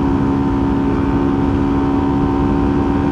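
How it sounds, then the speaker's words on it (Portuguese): A carbureted Titan 150 motorcycle rides along a road, its engine droning at a steady, loud pitch with constant rushing wind noise, no speech. "Posição normal de pilotar a moto."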